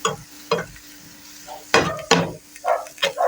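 A spoon stirs black pepper into fatty quesadilla filling in a hot pan with no oil, giving a few scattered scraping knocks and soft sizzling bursts at close range, with quiet gaps in between.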